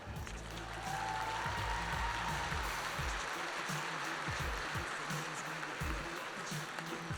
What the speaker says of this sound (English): Why don't we do a bit of an applause rating?